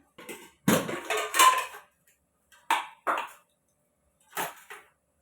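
A pressure cooker is set down on a gas stove and the gas is turned on: a few sharp metallic clanks and knocks, separated by silence.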